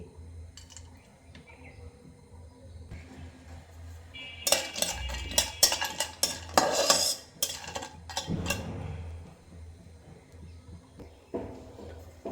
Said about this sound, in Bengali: অল্প আঁচে নেড়েচেড়ে ভেজে নেব।